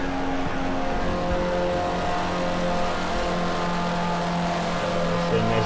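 Lamborghini Murcielago race car in a racing video game howls at high revs, finishing a hot lap in a Formula C round, with a steady, loud engine note throughout that carries no pauses or gear breaks.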